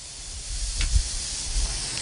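Cooking juices from boiled chicken poured over the top of the meat, giving a soft steady hiss with a brief swell near the middle, close and alone.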